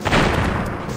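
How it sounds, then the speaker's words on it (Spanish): A short burst of booming explosions from the Crash Bandicoot video game, one loud blast that rumbles and fades over about a second. "¡Oh, Dios, las explosiones!"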